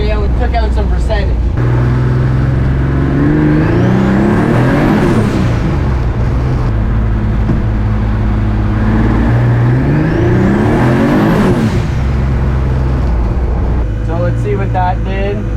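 Tuned Mazda MX3 engine accelerating hard through two pulls on snowy roads, loud and close, each rising whine climbing steadily before dropping off, with a steady drone between.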